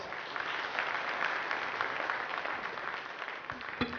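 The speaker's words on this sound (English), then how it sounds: "a round of applause to all our dignitaries on the dais" Steady applause from a crowd, clapping continuously and fairly loud without pause, with no voices over it.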